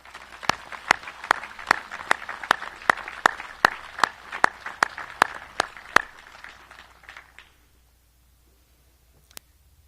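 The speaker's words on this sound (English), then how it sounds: "Please give them a round of applause." Applause at a memorial wall ceremony for emergency medical staff: evenly spaced, crisp claps repeat for about six seconds, then die away into quiet, with one late clap.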